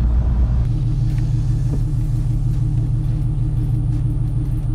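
A boosted manual Ford Mustang engine rumbles steadily from inside the car, a deep continuous drone under light acceleration without clear revving peaks.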